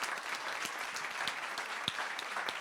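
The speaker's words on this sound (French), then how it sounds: "un petit applaudissement pour tous ces mômes-là" An audience at a school prize-giving for a short-story contest in Allauch claps for the high school students, a fairly soft, steady spatter of hands with a few sharper individual claps standing out.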